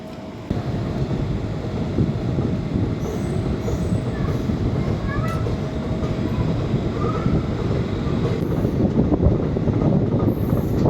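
The Sri Jagannath Express rumbles and clatters steadily into Jaleswar station platform three, with faint wheel squeals and brief high tones over the heavy rolling noise.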